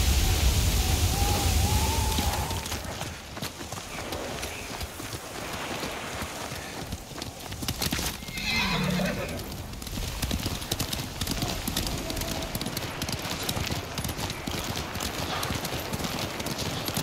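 In the Ghost of Tsushima video game, a horse's hooves clip-clop steadily at a gallop over a constant wash of rain, with a brief whinny rising in the middle.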